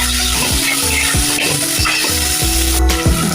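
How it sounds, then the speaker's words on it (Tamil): Shallots, garlic and tomato sauté in a pan for a fish curry, a steady loud sizzle broken by regular scraping strokes of a spoon roughly every half second, with no voices. "சின்ன வெங்காயம் நல்லா வதங்கட்டும். பாருங்கள், நல்லா வதங்குது."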